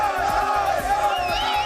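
Crowd of protesters chanting slogans in rhythmic bursts outside the Israeli embassy in Amman, many voices loud and close, repeating in a steady cadence.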